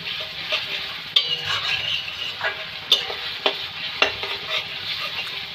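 Onions and garlic paste stirred and frying in a pan, a steady close sizzle broken by repeated scraping strokes of a spoon, with no talk.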